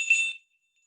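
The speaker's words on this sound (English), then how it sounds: "this is actually one of the bells from my sleigh" A single sleigh bell gives one short, bright jingle that fades within half a second and leaves silence, close and clear with no voices.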